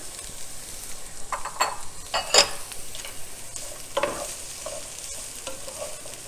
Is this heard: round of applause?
no